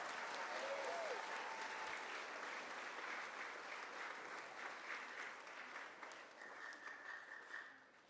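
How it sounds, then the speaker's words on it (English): Teachers and staff at a fifth grade moving-up ceremony receive sustained audience applause, steady crowd clapping that holds for several seconds and then tapers off at the end, with a faint voice early on. "Can we give them a round of applause,"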